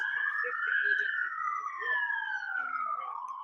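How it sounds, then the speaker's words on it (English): Police sirens wail in a long rising and falling tone from a played recording, fairly faint and distant, with a voice murmuring now and then underneath. "I did not hear those sirens"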